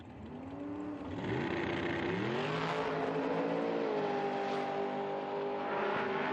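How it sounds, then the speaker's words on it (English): A nitro dragster's blown engine, its supercharger mounted off the left side, drones loudly at an IHRA outlaw nitro drag race, its pitch climbing and then holding at a steady, sustained roar. "The side slinger setup hanging off the left side of this dragster with the blower."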